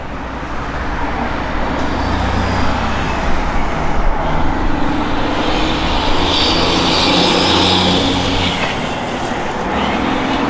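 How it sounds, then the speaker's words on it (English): Wind buffeting a microphone outdoors beside a 1967 Plymouth GTX, a loud continuous low rumble with gusty swells that roar steadily for the whole stretch, no talk over it. "Sorry, it's a little windy and it's blowing crap everywhere"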